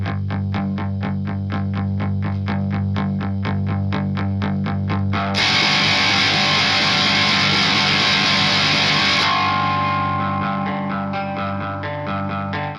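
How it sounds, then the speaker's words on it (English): Electric guitar run through an Electro-Harmonix Echo Flanger set to a rapid, intense slapback, playing the bridge of Nirvana's Drain You live at Roseland Ballroom in 1993: distorted chugging strums, then a loud swelling, smeared wash of effected noise before settling back. "Kurt instead clicked on his Electro-Harmonix Echo Flanger, which was set to a rapid and intense slapback effect."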